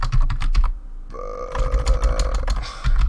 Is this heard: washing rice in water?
no